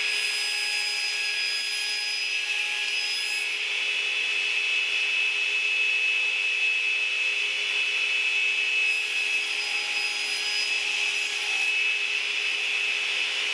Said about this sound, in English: the easiest way I know to cut tapers is right here on the radial arm saw